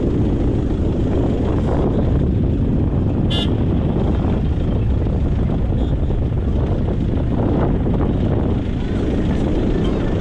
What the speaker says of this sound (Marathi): जो वारा आला इथे